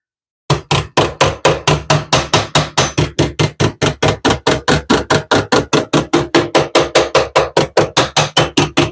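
Steady, loud hammer blows on steel duct held against a steel block while reforming a round 4-inch duct into a rectangle, roughly four ringing metallic strikes per second in an even rhythm, with no talking.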